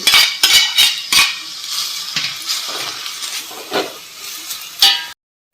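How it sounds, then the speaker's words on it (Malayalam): Cooked pasta with spices is stirred in a pan for a South Indian style dish, with close, repeated clinks and scrapes of a utensil against the pan over a soft sizzle, then a brief silence at the end. "നല്ലപോലെ ഇളക്കി യോജിപ്പിക്കുക."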